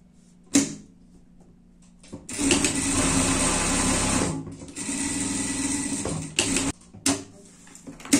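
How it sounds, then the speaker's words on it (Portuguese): An overlock sewing machine stitches pet clothing in two long, steady whirring runs, with short clicks and pauses between the bursts. "Vamos para o overlock agora"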